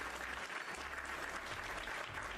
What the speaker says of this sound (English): You get a round of applause too.